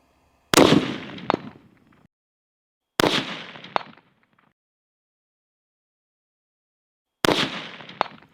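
Three sharp rifle shots fired at a 200-yard target, each a loud close crack with a trailing boom, spaced several seconds apart with silence between; a faint distant impact follows each report.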